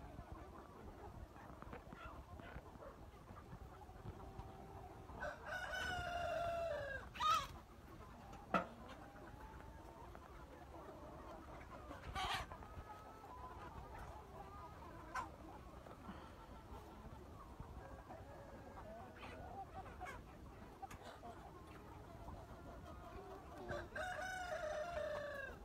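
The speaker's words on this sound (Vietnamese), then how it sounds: "Gà mái đẹp là tuyệt vời luôn. Gà chăn thả nhá." Free-range hens cluck and murmur at a farm while a rooster crows a few times, the calls faint to moderate over a quiet outdoor background.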